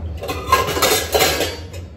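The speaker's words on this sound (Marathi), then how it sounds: "याची 7 ते 8 मिनिटे होईपर्यंत आपण भांडी लावून घेऊया." Dishes and utensils clink and clatter close by as items are handled and set down in a quick burst of kitchen noise.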